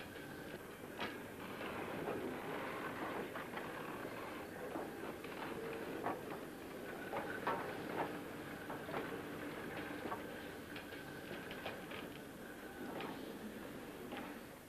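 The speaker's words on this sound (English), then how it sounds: "the Midland compound climbs past the depot, returning to York via Rochdale" A Midland compound steam locomotive climbs past a depot with its train, giving a steady, fairly distant rumble with repeated rail clicks and ticks throughout, no voices.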